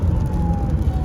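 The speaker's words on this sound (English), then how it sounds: "it looks like there is an ambulance that is coming here, so I'm gonna go ahead and pull over for it" An ambulance siren approaches, heard from inside a car on the road. The thin, faint wail sits well under the loud, steady rumble of the car.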